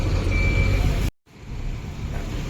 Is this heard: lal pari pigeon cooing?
no